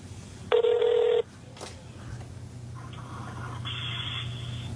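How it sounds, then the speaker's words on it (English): A telephone rings once during a call, a short loud electronic ring tone burst, then a quieter line tone follows over a low background hum. "So let's hear what that ring sounds like."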